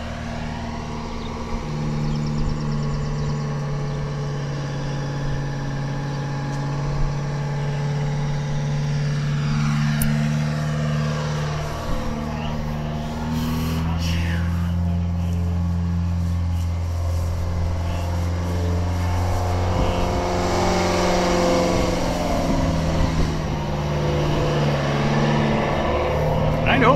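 A vintage cabover semi truck idles and runs nearby at a truck reunion show in Ohio, a low steady engine rumble with a slight rise in revs later on, while people talk over it.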